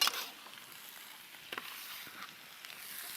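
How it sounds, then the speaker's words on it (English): Peppers and onions sizzle softly in a big skillet over medium to medium-high heat, a faint steady hiss with a stronger burst at the start and a few small pops. "we're going to add our peppers and onions into our big old skillet and let them start wilting down"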